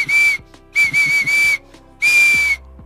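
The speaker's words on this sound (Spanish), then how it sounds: "Y aquí tiene un silbato. Déjenme hacerle para que escuchen" A toy referee whistle blown close up in three shrill blasts, a short one, a longer one and a final long one, each sharp and loud.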